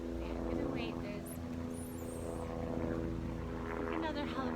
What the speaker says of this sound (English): another helicopter flying over